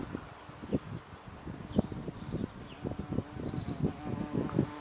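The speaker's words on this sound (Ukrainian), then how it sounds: "Його, як ви бачите, дуже полюбляють бджоли." Bees buzz steadily around a flowering tree peony outdoors, a soft droning hum with faint rustling, some insects passing closer now and then.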